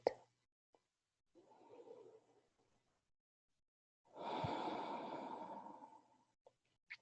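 During a yoga session, a slow inhale is followed by a longer, louder exhale through the mouth, close to the microphone, with quiet gaps between the breaths.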